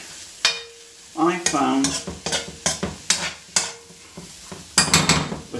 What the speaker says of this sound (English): it's not going to fry in the same way as it does with a load of oil